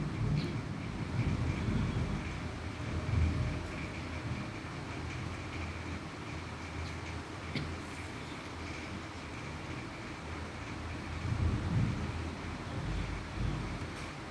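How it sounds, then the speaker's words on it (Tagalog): Floodwater from a flash flood rushing past, a steady broad roar with low rumbling surges and no voices. "Grabe, lumawak yung husto ng baha. Lumakas bigla."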